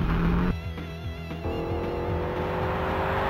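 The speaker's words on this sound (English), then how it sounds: "Gentlemen, start your engines." Race car engines starting up and revving in the NASCAR 2000 video game at Las Vegas, a steady loud mechanical drone with shifting engine pitch holding throughout, no talk.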